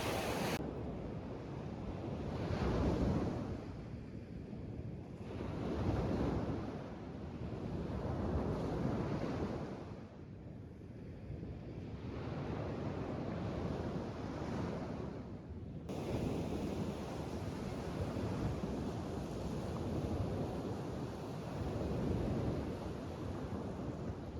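Sea waves on the Black Sea along the Bulgarian coast wash in as a steady, loud roar with repeated surging swells every few seconds, buffeted by wind noise, with no voices.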